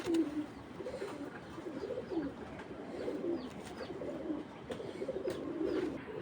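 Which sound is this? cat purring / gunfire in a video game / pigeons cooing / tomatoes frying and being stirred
pigeons cooing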